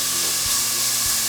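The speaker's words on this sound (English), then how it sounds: "First thing, bacon going in." Bacon sizzling and frying in a hot pot as the first step of New England clam chowder, a steady close hiss with soft crackles throughout.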